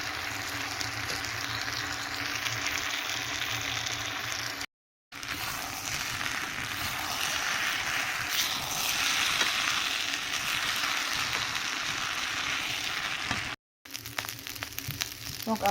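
Cooked rice being stirred and tossed in a hot pan with vegetables and chicken, a steady loud sizzle with scraping strokes running continuously, broken by two brief silent gaps.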